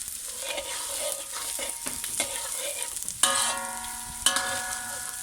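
Onion, garlic and curry leaves sautéing in hot oil, a steady close sizzle broken by scraping stir strokes, with a couple of sharper metallic spatula clinks near the end.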